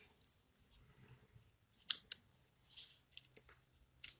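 Scissors trimming paper for a folded card, a few sharp snips spread over several seconds, close and fairly quiet, with faint rustling between the cuts.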